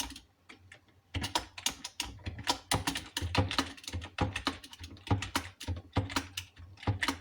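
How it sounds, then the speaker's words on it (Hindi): Steady fingers type Hindi on a computer keyboard, a dense run of quick, close key clicks and taps with uneven rhythm and brief pauses, continuing for several seconds with no voices. "इस तरह से आप टाइपिंग करेंगे।"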